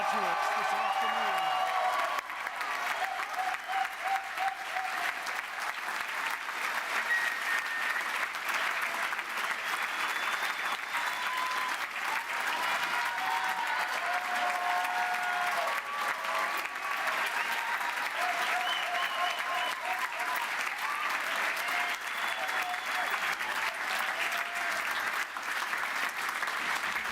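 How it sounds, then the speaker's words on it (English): Sustained applause with scattered cheers fills a large hall at a University of West London graduation ceremony, a dense, steady clapping roar from a big crowd lasting throughout. "Can we have a huge, big final round of applause and a cheer for all of our graduates this afternoon?"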